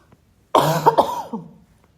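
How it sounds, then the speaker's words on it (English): One harsh cough rings out close by, a sharp burst that fades into a rough exhale, with silence on either side. "You ever cough so much your eye waters?"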